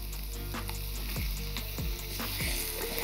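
Chicken mince frying in a hot pan for quick udon noodles, a steady close sizzle with faint scraping stirs throughout.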